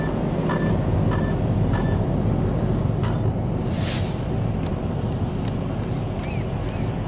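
Arrma Felony twin-motor RC car on a test run, a steady loud broadband roar of motor and wheel noise throughout with a brief whine sweeping through midway.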